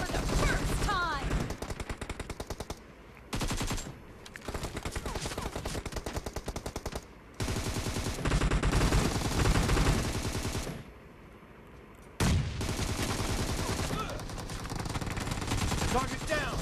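Rapid automatic gunfire from a mobile battle-royale shooter match, loud bursts and sustained sprays with short pauses for reloads, with in-game voice lines mixed in.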